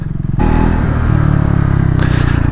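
A Triumph Scrambler motorcycle rides a rough jungle road near Binsar Wildlife Sanctuary, its engine loud and close with a steady rumbling throb over rattles and scrapes as the bike bounces along, and no talking.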